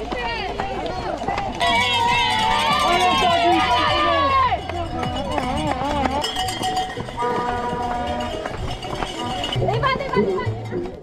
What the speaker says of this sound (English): I had never experienced such an energy level from a crowd